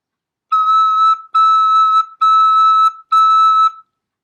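Four lightly blown whistle-like notes from a small wind instrument fingered with five fingers and a partial thumb, each about half a second long and evenly spaced, steady and clear with a breathy tone like a distant train whistle.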